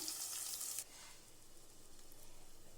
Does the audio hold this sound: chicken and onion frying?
yes